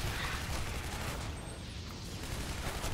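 Dense gunfire from the video game Shadow Warrior, a continuous loud rattle of rapid shots and booms that fills the whole stretch.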